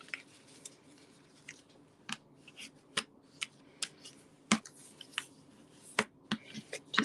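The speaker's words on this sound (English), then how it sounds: "And I'm going to come in with my bone folder." Bone folder creasing folded cardstock, a series of faint, close, sharp scraping clicks and short rubs at irregular intervals over quiet background, with no talking.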